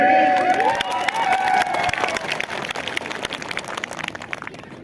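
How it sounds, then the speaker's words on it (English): A crowd at the APHLC 5th Foundation Day gathering in Dongka, Karbi Anglong, claps and cheers for the party presidents and secretaries, a dense burst of applause that slowly thins, with a voice briefly rising over it at the start. "Let's give a big clap to them."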